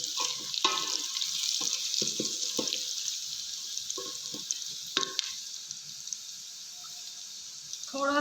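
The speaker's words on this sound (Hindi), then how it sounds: "थोड़ा सा पानी शामिल करेंगे" A little water poured into a pot of frying beef and garlic paste for beef yakhni polao, with a steady sizzle, repeated spoon clinks and scrapes, and a burst of bubbling hiss near the end.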